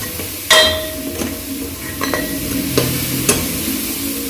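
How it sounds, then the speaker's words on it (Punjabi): Potato and cauliflower bhurji roasting and stirred in a pan, with a steady soft sizzle broken by a few sharp scrapes and clinks of the spoon against the pan, close and alone. "ਇਸ ਤਰ੍ਹਾਂ ਆਪਾਂ ਇਹਨੂੰ ਚੰਗੀ ਤਰ੍ਹਾਂ ਭੁੰਨ ਲੈਣਾ"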